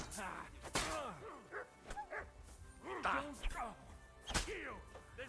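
A dog barks in Kingdom Come Deliverance II, several sharp, close barks and yips mixed with thwacks and voices talking over the scene.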